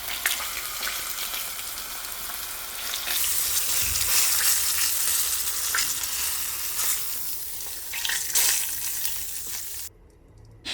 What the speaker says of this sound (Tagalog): So, iprito lang natin magkabilaan.